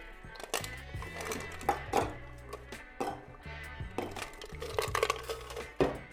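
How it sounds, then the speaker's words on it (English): Ice cubes drop into a cocktail shaker in a series of sharp, separate clattering knocks over soft background music. "Now add ice to your shaker."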